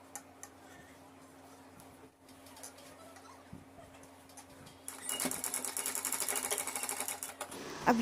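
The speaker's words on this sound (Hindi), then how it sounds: "यहाँ साइड में जो ओपन रह गया उसको भी मैं सिल के पैक कर दूँगी" A sewing machine stitches closed the open side seam of a dress, with quiet ticking and handling first, then a louder rapid needle rattle starting partway through and running to the end.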